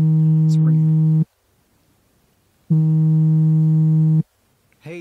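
A telephone rings out in two long, steady electronic tones separated by silence, loud and close, with a brief vocal sound at the very end.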